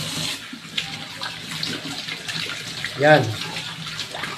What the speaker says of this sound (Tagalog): Madaling banlawan po ito.